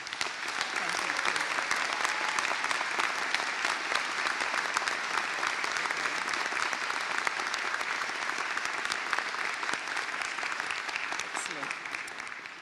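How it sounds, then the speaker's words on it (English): A graduation audience at a university ceremony claps steadily for several seconds, a dense, even wash of hands across a large hall that tails off at the end. "Let's give her a big round of applause."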